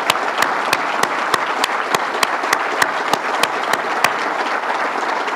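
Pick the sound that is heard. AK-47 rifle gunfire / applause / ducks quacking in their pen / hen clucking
applause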